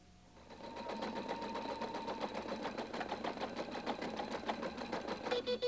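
A Husqvarna Viking Designer 1 sewing machine stitches a repeating mirrored side-to-side pattern in one steady, evenly paced run, close and moderately quiet throughout.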